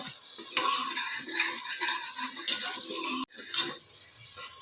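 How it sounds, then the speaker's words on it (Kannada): Onion and turmeric sautéing in hot oil for a fish sambar, with sizzling frying and a spoon stirring and scraping against the pan in bursts, close and loud, one sharp break near the end, no talking. "ಎಣ್ಣೆ ಕಾದಿದೆ ಅರಿಶಿನ ಈರುಳ್ಳಿ ಹಾಕಿ ಅರಿಶಿನ ಈರುಳ್ಳಿ ಎಣ್ಣೆಯಲ್ಲಿ ನೀಟಾಗಿ ಬಾಡಿಸ್ಕೋಬೇಕು"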